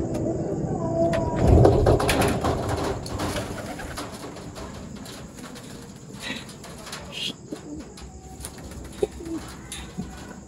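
Racing pigeons coo at a pigeon club loft during club training in Pozzorubio, Pangasinan, with soft repeated coos and a brief flurry of wing flaps near the start over steady outdoor background noise.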